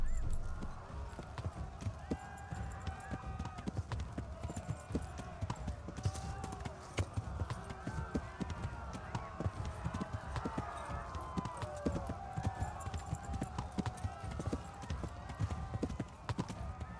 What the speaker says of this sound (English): Apenas inicie meio galope e não se preocupe de ficar guiando ele.